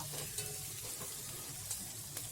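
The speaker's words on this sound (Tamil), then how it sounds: "இப்போ வந்து நாம் இஞ்சி பூண்டு பேஸ்ட்டு போட்டுக்கலாம் இப்போ நல்லா கலந்து விட்டுக்கலாம்" Onions and ginger-garlic paste frying in a pan for mutton Pallipalayam, a steady broadband sizzle with soft scraping stirs at intervals, close and continuous, with no voices.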